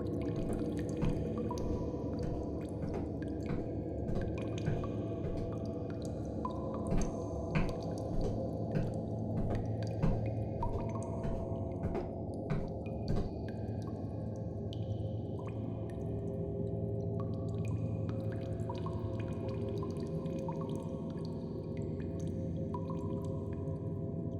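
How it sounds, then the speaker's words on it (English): Sparse water drips fall at irregular intervals in a dark, echoing tunnel on Tomogashima island, Japan, over a steady low rumbling hum. "with nothing but the sound of dripping water"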